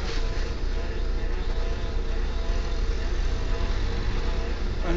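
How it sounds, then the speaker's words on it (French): A steady low mechanical drone with a faint whirring hum comes from a VW Golf 2 16S with a struggling water pump, continuous and moderately close with no clear change over its length. "c'est ma pompe. Elle a du mal à aspirer, je pense."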